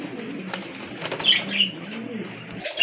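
A caged pigeon coos repeatedly at close range, soft low rolling calls with a few brief higher chirps and some wing rustle mixed in.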